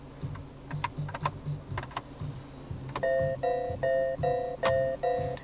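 Soft tapping sounds give way to a series of short, bright electronic chimes, the classic alert sound of a 2014 Citroën DS4 infotainment system, repeating in a quick, even pattern.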